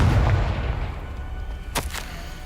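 A Confringo fire spell blast in Hogwarts Legacy erupts as a heavy low boom with a rumbling tail, followed by a sharp, bright crack a moment later.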